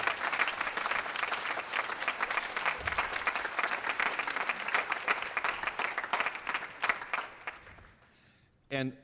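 An audience at an Oil City High School band concert gives sustained applause for the school's administrative staff, clapping steady and full before thinning out and trailing off near the end.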